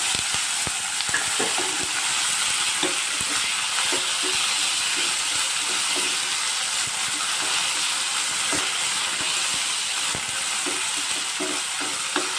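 Sliced ivy gourd sizzles in a pan under a constant hiss, with frequent light scraping and tapping as it is stirred; no one speaks.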